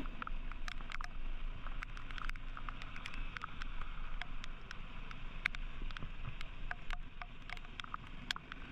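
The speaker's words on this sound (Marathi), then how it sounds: "पाऊस पण जोरात आलेला आहे." Heavy rain falls during an off-road motorcycle ride on a badly damaged road in Konkan, a steady dense wash of noise with scattered sharp drop hits and wind buffeting throughout.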